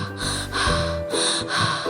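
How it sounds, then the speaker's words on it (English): A person panting after jogging: a few heavy, rhythmic breaths and gasps, close and fairly loud, with a music bed underneath. "He pants and sweats like a horse."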